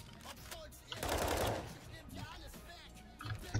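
Gunfire in a Counter-Strike–style shooter game, a short burst of rapid automatic shots at moderate loudness, with a voice talking over the action.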